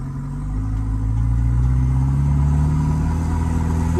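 A car engine strains up a small hill, a steady close droning hum that swells slightly as it labors under load, with no talk over it.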